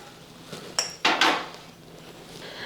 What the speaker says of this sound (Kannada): ಮಧ್ಯದಾಗಿ ನಾನು ಪಾತ್ರೆ ಇಟ್ಕೋತೀನಿ